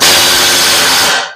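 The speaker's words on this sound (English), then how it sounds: "I use a wire wheel on the mini grinder, and it works great" A wire wheel spins on a mini grinder while cleaning Ford truck parts, a loud, close, harsh whirring hiss that holds steady for over a second and then cuts off abruptly.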